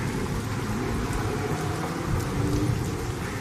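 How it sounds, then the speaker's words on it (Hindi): Heavy rain pours down in a steady, dense wash close by, with a faint low rumble underneath and no voices. "तभी अचानक जोर जोर से बारिश होने लगती है।"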